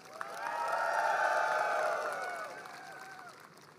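An audience at a Dayak traditional ceremony, the Bahaupm Bide Bahana opening, breaks into applause and cheering that swells, holds for a couple of seconds, then fades out, heard from a moderate distance.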